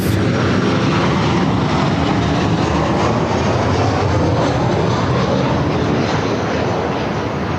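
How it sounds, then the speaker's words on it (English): A jet airliner roars down the runway on its takeoff roll at LAX, a loud, dense, sustained engine rumble and hiss that stays heavy and unbroken throughout. "All right, cleared for takeoff."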